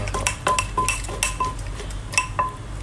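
Food being scooped onto a plate: a close run of clinks and scrapes of a metal spoon against dishes, irregular and fairly loud with no talk.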